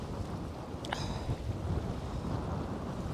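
Gusty wind buffets the microphone on a windy day of bait fishing, a low continuous rumble with a brief high tone near the start.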